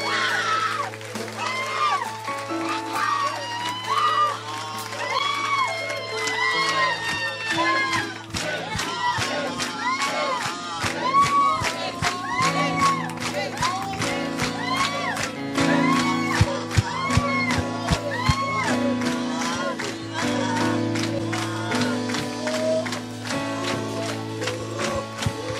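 A church congregation at a revival meeting in Evry cheers and shouts praises to God, a dense crowd roar with overlapping voices and rhythmic claps, loud and sustained under musical tones.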